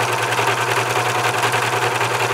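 Serger sewing machine stitching a small rolled hem, a loud, close, continuous fast mechanical whir with a steady hum throughout and no talking.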